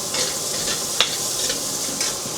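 Onions sautéing in a pan for pork afritada, a steady close sizzle and hiss with a few soft stirring clinks, no voices over it.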